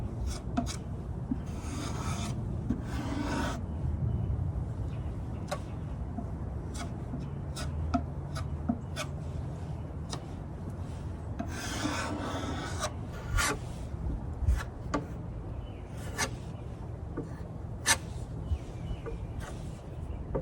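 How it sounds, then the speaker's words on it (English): Dry scratchy rubbing of 180 grit sandpaper smoothing dried Bondo filler on a piece of furniture, in repeated back-and-forth bursts, close and fairly quiet with small knocks between strokes. "Once the Bondo dried, I sanded it down with 180 grit sandpaper"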